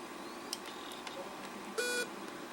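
A Compaq Armada 1535DM laptop gives a short electronic beep at power-on, a brief bright tone standing out over a quiet hum, with faint clicks before it.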